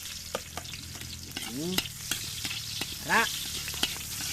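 Onion frying in a pan for chicken adobo, a soft steady sizzle under scattered stirring clicks and scrapes, with a brief spoken word and faint background voices.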